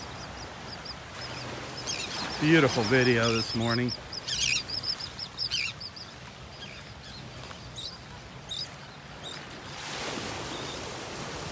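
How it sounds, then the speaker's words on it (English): A flock of birds lifts off a beach sandbar in North Naples, Florida, with a burst of calls and flapping over soft surf, partly under a man's speech, then fading to gentle waves. "All the birds flying off the sandbar."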